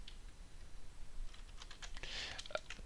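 A short, faint run of keystrokes on a computer keyboard as a brief command is entered, a handful of soft clicks over a low background hiss with no speech.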